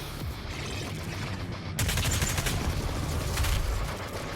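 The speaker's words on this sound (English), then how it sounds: "On this assault rifle. Having the barrage come from both sides rather than just the one." An assault rifle fires in Doom Eternal, a loud continuous rattling burst with rapid dense shots and a sharp onset partway through, heavy rumble beneath, no talking.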